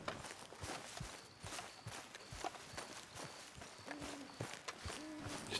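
A horse walks in Red Dead Redemption 2, its steady clip-clop hoofbeats fairly faint beneath a dense, noisy game soundscape with no talk over it.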